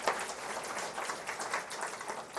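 Audience applause at a church conference delegate session, a steady wash of many hands clapping at moderate distance, sustained through the moment with no voices.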